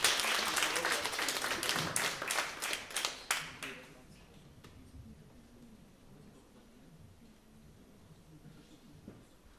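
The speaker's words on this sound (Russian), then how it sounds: "Ваши аплодисменты" An audience at a theatre show claps loudly for about four seconds. The applause quickly thins to scattered claps and then a quiet hall with faint background murmur.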